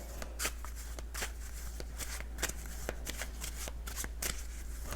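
Playing cards are shuffled repeatedly in quick riffling bursts, close and quiet, over a low steady hum.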